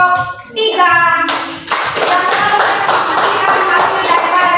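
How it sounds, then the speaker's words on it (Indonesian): Schoolchildren in a classroom burst into steady clapping for their classmates' group after a teacher speaks briefly; the clapping is close, dense and continues to the end. "kita berikan tepuk tangan untuk kelompok 3"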